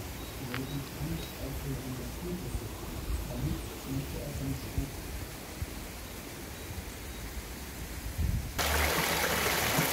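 Clear forest stream water near the Königshütte waterfall in Germany trickles and flows steadily, a soft continuous wash with small splashes, ending in a louder hiss of rushing water.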